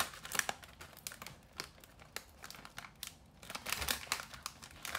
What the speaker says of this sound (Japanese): これ上手にハサミで切った方がさいい系かもしれん。